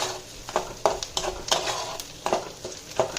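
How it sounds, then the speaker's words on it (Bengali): Onions frying in a pan, a steady sizzle broken by rhythmic scraping strokes of a spatula against the metal, close and clear with no talking. "এই যে পেঁয়াজ ভাজছি"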